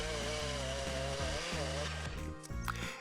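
Chainsaw cutting black locust wood into battens, its engine loud and close with a steady buzzing roar that dips and rises as the chain bites into the timber.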